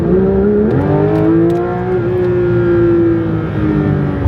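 A Porsche GT3 RS drives at speed, its engine note loud and close, holding a steady high pitch that climbs early on and then settles into sustained revving. No talk is heard over the engine.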